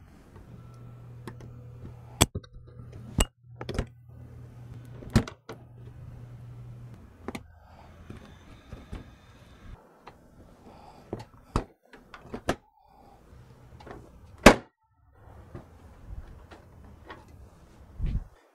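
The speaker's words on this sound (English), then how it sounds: "So we're going to go ahead and remove these clips." Plastic push clips being pried out of the core support cover on a 2011-14 Ford Mustang GT 5.0L, heard as a series of sharp, separate snaps and clicks at close range with small handling noises and a low hum between them.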